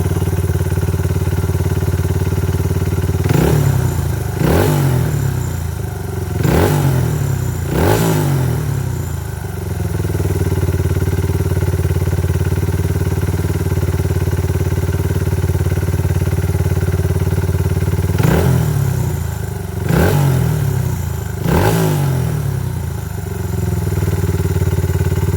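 A Honda XR100 dirt bike with an FMF exhaust and a 120cc big bore kit idles steadily, then is revved in sharp bursts, four quick blips followed by a lull and three more, close and loud.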